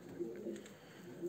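Pigeons in a loft coo softly in low, repeated calls spread through a short stretch, faint and steady against a quiet background.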